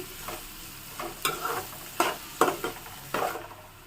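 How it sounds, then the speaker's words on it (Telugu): Onion pieces fry in oil for a Godavari-style prawn and egg curry, a steady close sizzle broken by about six scraping stirring strokes at irregular intervals, with no talking. "ఈ ఉల్లిపాయ ముక్కలను కూడా కలర్ వచ్చేంత వరకు వేయించుకోవాలండి"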